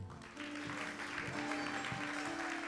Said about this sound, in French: Alors acclamez maintenant pour vous-même.